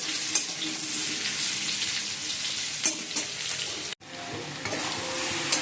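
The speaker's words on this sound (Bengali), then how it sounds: "তেজপাতা ফোড়ন দিয়েছি, দিয়ে আলুগুলো লাল লাল করে ভেজে নিই" Potatoes frying in oil with a bay leaf tempering, a loud even sizzle with occasional stirring scrapes and a brief break near the end.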